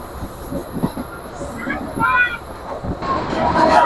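Korotoa Express train running in Bangladesh, a rolling clatter of wheels and carriage noise with a few squeaky metallic tones, heard from inside under a speaking voice.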